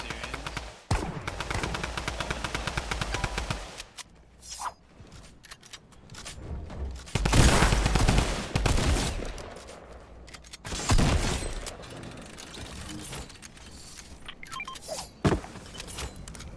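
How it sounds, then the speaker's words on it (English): Rapid automatic fire from a drum gun in Fortnite, bursts of fast repeated shots, loud and close, broken by short pauses with other gunfire and game noises in between. "the drum gun's fucking busted."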